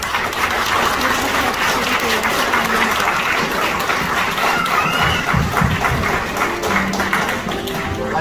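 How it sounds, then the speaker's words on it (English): A crowd applauds loudly and steadily at a middle school awards ceremony, sustained clapping from many hands filling the space with a few scattered cheers. "give a big round of applause for your parents and your loved ones here today"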